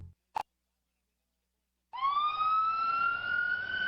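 Ambulance siren in a radio advertisement for a medical center's ambulance service, entering after a short plop and silence, then sounding as a loud, steady rising wail that holds on to the end.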